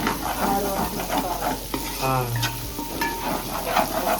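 Chicken curry masala paste sizzles steadily in hot oil in a pot while a spoon scrapes and stirs it, with close, continuous frying crackle.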